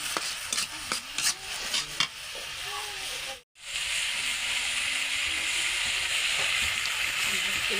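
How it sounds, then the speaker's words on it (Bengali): Turmeric, salt and chili spice paste stir-fried in a pan for a pabda fish dish with sour leaves, a continuous close sizzle and scraping stir with a brief pause midway. "মশলাটা ভাবে কষাই নেব।"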